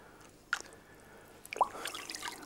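Water drips and splashes in two short bursts while blood is rinsed from small gutted fish such as sprat or herring, close and fairly quiet.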